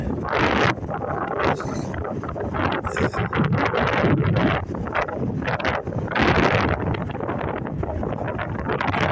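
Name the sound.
wind at the beach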